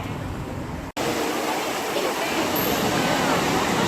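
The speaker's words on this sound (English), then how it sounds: "Trevi Fountain." Water splashing steadily at the Trevi Fountain in Rome, a dense continuous rush broken by one brief dropout, with faint crowd voices underneath.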